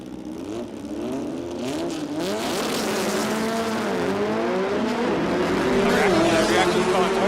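Two Volkswagen Beetle drag cars launch in qualifying at a Queensland drag strip, engines climbing through rising revs and gear changes, loud and close throughout with a crowd-like wash behind.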